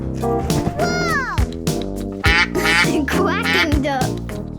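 A human voice imitates a duck, repeated expressive quacks at close range, bright and loud, in a children's word-learning program.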